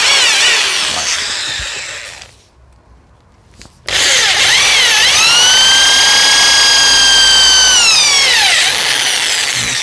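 An electric drill bores into a hickory golf club head, a loud close whine that pauses briefly, then returns with the pitch dipping and rising as the bit bites into the wood.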